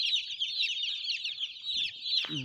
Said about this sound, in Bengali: মুরগিগুলো সব মুরগিগুলো কিন্তু বুটার তলে আছে